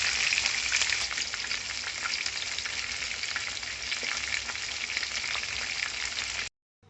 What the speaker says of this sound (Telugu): రెండో వైపు తిప్పుకున్నాక 10 నిమిషాలు లో ఫ్లేమ్లో ఫ్రై చేసుకోవాలండి